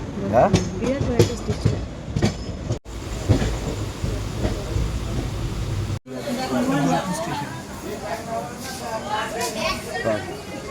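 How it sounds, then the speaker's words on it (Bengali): A train departing Bolpur station rumbles and clatters steadily on the rails, with a crowd chattering and voices nearby throughout, fairly loud and close. "আমাদের ট্রেন বোলপুর স্টেশন ছেড়ে বেরিয়ে যাচ্ছে"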